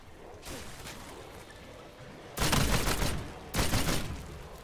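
Shotgun blasts in the video game Call of Duty Black Ops 7: a stretch of distant, steady gunfire, then two loud, close, booming bursts in quick succession.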